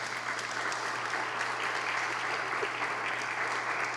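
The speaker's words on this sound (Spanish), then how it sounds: "eso merece un aplauso de nuevo" Applause for a young Dominican illustrator at a book launch: an even wash of audience clapping, fairly distant and soft, with a steady low hum beneath it throughout.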